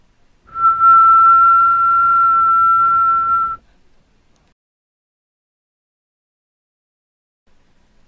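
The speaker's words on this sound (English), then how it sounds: "Here we will record a whistle and plot it." A single steady, pure whistled tone held for about three seconds, then silence.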